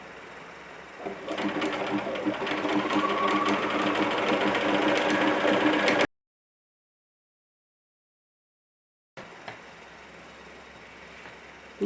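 A sewing machine runs steadily through fabric for a few seconds at close range, stops abruptly into silence, then a quieter hum of handling follows.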